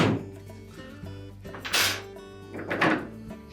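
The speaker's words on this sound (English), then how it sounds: "Lower the door into a closed position." A solid thunk of a GE dishwasher door swinging shut, close by, with a second softer knock after, over faint background hum.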